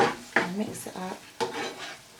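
A spoon stirs canned corned beef and seasoning in a pot, scraping and clattering in a few quick close strokes with a light sizzle under them.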